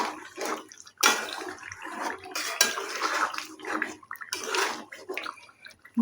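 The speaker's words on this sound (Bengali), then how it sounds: "নুনটা দিয়ে ভালো করে একবার মিশিয়ে নিচ্ছি" Salted chicken kosha curry stirred in a pan at home: irregular close clatter and scraping of a spoon against cookware with wet, squelching bursts, loud and uneven, with no talking.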